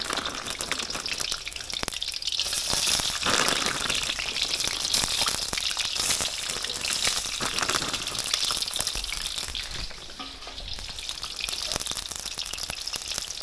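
Continuous bubbling sizzle of french fries deep-frying in hot oil over medium-high heat, steady and fairly close, with occasional crackles and no talking.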